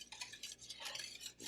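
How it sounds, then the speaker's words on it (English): A spoon stirring tapioca pudding in a pot on the stove, with repeated scraping and swishing strokes in a steady rhythm, close but quiet and without speech. "at that point, you really have to stir it a lot to make sure that nothing sticks to the bottom."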